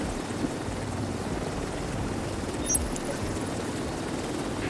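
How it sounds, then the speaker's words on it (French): Steady low rotor-like drone of a helicopter flying in a video game, a continuous engine hum with broadband wash and no voices, holding at an even moderate level throughout. "L'hélico rentre à la base."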